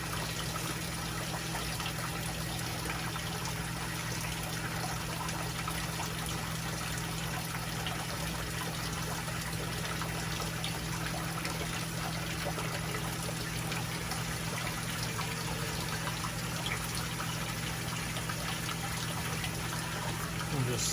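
Water rushing and flushing steadily through a small aquaponics deep-water-culture grow bed during cleaning, a constant close wash with a low pump hum underneath and no talk.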